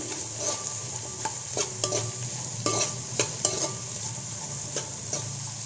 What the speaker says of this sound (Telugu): చిన్న ముక్కలుగా కట్ చేసుకున్న ఉల్లిపాయని ఒక ఉల్లిపాయని వేసుకుంటున్నానండి ఇవి ఫ్రై అయ్యేలా కలుపుకోవాలి